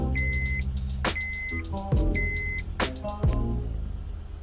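A Honda Odyssey engine turns over and runs after a power steering replacement, with a couple of sharp cranking bursts under steady rapid dashboard chimes, close and moderately loud.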